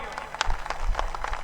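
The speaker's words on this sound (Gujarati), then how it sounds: "આ બંને માટે તાળીઓ પાડજો ભાઈઓ" Crowd at a Patidar community gathering clapping briefly, scattered individual claps over a rumbling hall background, fairly faint and short.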